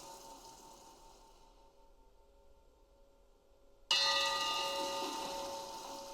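A single bell strikes loudly after a stretch of near silence, its bright metallic tone ringing on and slowly decaying.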